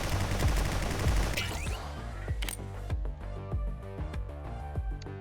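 A turret fires in the shooter game Nimrods, first a dense loud burst of rapid shots, then slower evenly spaced single reports, all up close with no talking.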